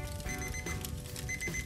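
The alarm clock in a FURA survival bracelet gives thin, high electronic beeps in short intermittent bursts, fairly faint beneath a dense, noisy background.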